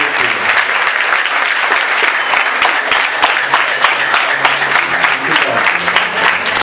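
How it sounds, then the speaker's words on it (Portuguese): A church congregation gives a loud, sustained round of applause during a scarf investiture ceremony for a Pathfinder club, dense clapping filling the room evenly from start to finish. "Eu gostaria que agora a igreja desse uma salva de palmas."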